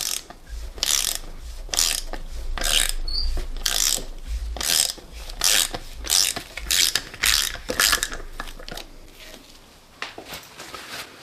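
A part is unthreaded from a Mercury Optimax outboard motor with a ratchet tool, giving a long run of loud, close, rapid ratcheting clicks in uneven bursts with short pauses between strokes.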